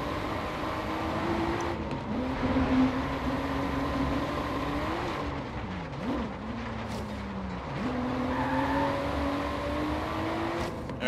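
Race cars in a racing video game, including a Toyota Supra, give a quiet, steady engine hum with a few brief pitch dips and rises as the cars take turns, with no talking over it.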